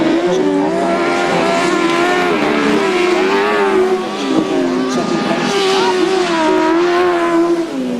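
Grasstrack motorcycles race at the 2007 Jim Coles Spectacular, their loud, wavering engine whine held steadily and close throughout.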